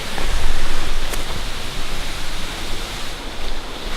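A forest waterfall in Olympic National Park roars as a dense, steady broadband rush, loud and continuous with slight surges throughout.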